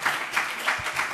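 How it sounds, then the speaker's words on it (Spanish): Brief applause from a debate audience thanking two guests, a quick burst of a few clustered claps from a modest crowd. "Un aplaudiment ben fort."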